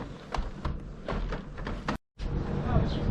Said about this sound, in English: Let's see if I can open this door.